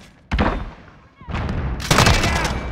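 Gunfire in the shooter Call of Duty Modern Warfare (2019), with a sharp nearby shot followed by heavier bursts of loud, dense firing and impacts.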